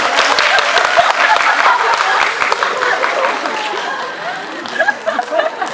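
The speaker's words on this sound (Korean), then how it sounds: "여러분 큰 박수 부탁드리겠습니다." A cinema audience at a film talk event applauds loudly and steadily, clapping blending into a dense wash, with murmurs and chuckles mixed in before it thins toward the end.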